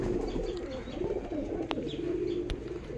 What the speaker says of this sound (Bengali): কালাঙ্কা মাদা পায়রা দেখুন